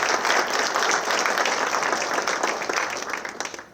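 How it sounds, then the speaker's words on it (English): Audience applause at an awards ceremony, a loud, dense wash of clapping from a large room that holds steady and tapers slightly toward the end. "So a round of applause, everybody"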